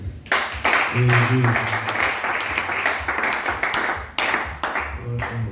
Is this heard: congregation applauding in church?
yes